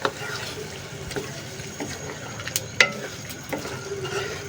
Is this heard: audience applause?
no